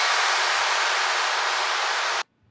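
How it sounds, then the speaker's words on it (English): A steady hiss of broadband white noise holds at an even level for about two seconds, then stops sharply into silence. "It's just some white noise."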